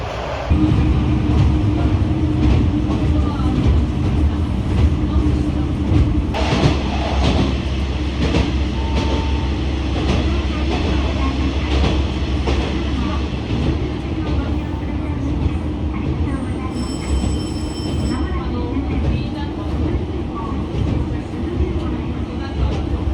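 A JR Etsumi-Hoku Line local train runs toward Kuzuryuko station with a steady, loud rolling rumble and wheel noise, and a voice announcement briefly sounds over it.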